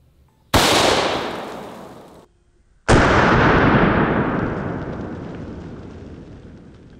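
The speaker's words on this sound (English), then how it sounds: "we're gonna shoot this out of the mare's leg, which has a much longer barrel than most .44 Magnum revolvers" .44 Magnum fired from a long-barreled mare's leg lever rifle: two sharp, loud blasts a couple of seconds apart, each followed by a long rolling echo that fades out slowly.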